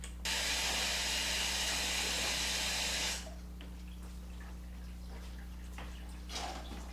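Water pours from a tap into a container of saltwater aquarium salt mix, a loud, steady rushing splash lasting about three seconds, then stopping abruptly to leave a quiet hum with faint clinks.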